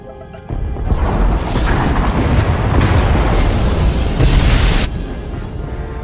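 Pod bays blowing up in Star Wars: The Old Republic, a loud, deep explosion that bursts in suddenly and rumbles on for several seconds with crashing debris before easing slightly.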